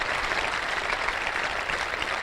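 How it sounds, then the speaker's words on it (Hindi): An audience claps steadily at a Christian gathering, a dense, even patter of many hands that stays at the same level for about two seconds with no voices. "तो जोरदार तालियां दोस्तों उस परमात्मा के लिए"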